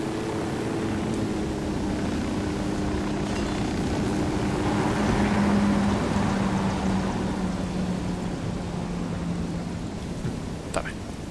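An aircraft comes in to land in Ghost Recon Wildlands: a steady engine drone with a low hum swells around the middle and then eases off, ending with a brief click.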